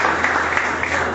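Short burst of audience applause at a school debate event between Comprehensive and St. Michael's College, a dense steady clapping wash lasting about a second.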